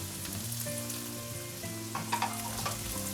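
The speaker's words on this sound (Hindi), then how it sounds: "इन सब चीज़ों को हम फ्राई कर लेंगे ऑन हाई फ्लेम।" Vegetables and sweet corn frying on high flame for kimchi fried rice, a steady, moderate sizzle with a few brief stirring clatters near the end, no voices.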